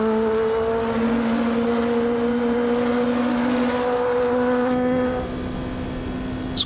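Nissan race car in the Automobilista 2 racing game, its engine holding a steady, loud tone with strong harmonics, pitch rising slightly as it revs and then easing near the end.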